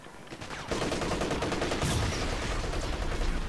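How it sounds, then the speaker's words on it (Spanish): Gunfire in Company of Heroes 3 during a multiplayer battle, a dense rattle of rapid shots that erupts suddenly after a quieter start and keeps going steadily. "¿Quién me está disparando?"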